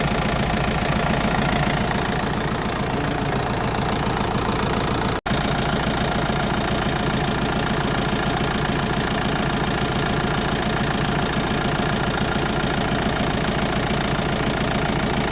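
A Foton 354 tractor engine, about ten years old, idles steadily with a rough knocking beat. It is loud and close, with one sharp brief dropout partway through.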